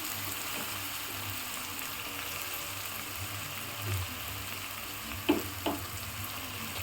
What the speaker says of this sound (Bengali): এখন আমি এর মধ্যে দিয়ে দিচ্ছি টমেটো কুচি